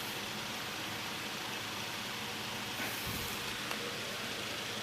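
A restored vintage Victor Junior electric fan runs with a faint, steady broadband whoosh and hum, continuous and low in level, with slight imbalance and no speech.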